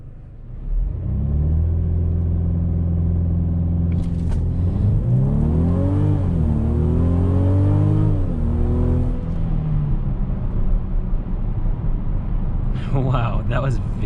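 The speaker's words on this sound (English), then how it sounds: "I'm going to go ahead and brake boost it" A 2021 Mercedes-Benz GLC coupe in sport mode launches from a brake boost, its engine rumbling low then rising through climbing revs and a gear change, loud and close from inside the cabin.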